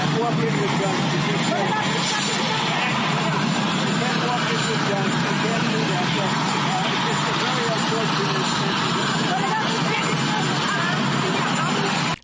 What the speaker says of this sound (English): filter out the sounds of the goddamn fucking jet engines in every single Trump interview